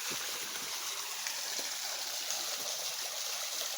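A shallow forest stream in winter flows with a steady, hissing babble of trickling water, continuous and fairly soft, with no voices.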